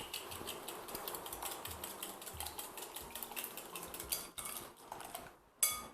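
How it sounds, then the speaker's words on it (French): Eggs, sugar and cake batter for a lime cake being mixed in a bowl, a rapid steady clicking and tapping of a whisk or utensil against the bowl, close and busy, ending with a sharp knock. "Nous mélangeons le tout."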